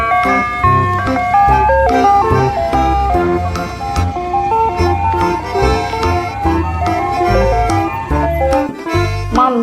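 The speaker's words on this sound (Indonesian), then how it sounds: "Yang ini ada mobil es krim." A toy ice cream truck plays its jingle, a bright repeating electronic melody with plucky notes and a thumping bass pulse, loud and close throughout.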